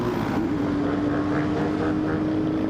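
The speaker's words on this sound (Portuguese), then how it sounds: "Lotado de moto, rapaziada" Dense, continuous engine roar from many motorcycles packed together at a crowded street gathering in Brazil, a steady loud drone with a sustained pitched hum and no clear individual passes.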